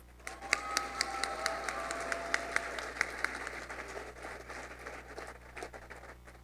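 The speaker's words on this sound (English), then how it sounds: "Let's give him another round of applause." Audience applause at a teachers of the year ceremony for a school district, a crowd clapping steadily with a few sharp, distinct claps standing out early on, then softening into a lighter patter.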